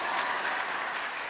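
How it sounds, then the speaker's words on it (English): Steady, dense audience applause fills a conference hall at SXSW 2019, a continuous wash of clapping without any talking over it. "Y'all should clap for that."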